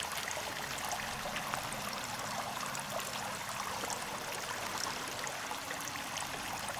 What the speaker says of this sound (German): Wasser.